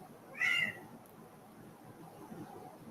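A cat gives a single short meow early on, fairly clear over a quiet room background, then falls silent.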